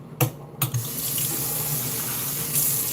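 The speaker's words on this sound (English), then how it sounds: "A little bit of water." Tap water pours into a pot of oxtail for cooking, a loud, steady, close rush after a few sharp knocks at the start.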